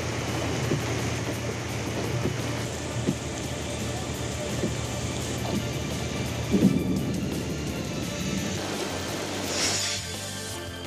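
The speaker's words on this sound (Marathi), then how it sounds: "पहाटेपासूनच पावसाची रिपरिप पाहायला मिळाली." Steady rain keeps falling with a low rumble of thunder beneath it, a broad continuous hiss that swells briefly toward the end, while a voice talks over it.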